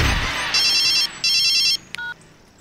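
A telephone rings with two bursts of bright electronic trills, followed by a short beep, loud and close after a brief swoosh at the start, with no talk.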